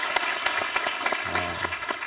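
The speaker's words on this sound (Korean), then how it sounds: "박수가 나와야죠." A small audience clapping at an informal talk gathering, a brief burst of close, dense applause lasting a couple of seconds.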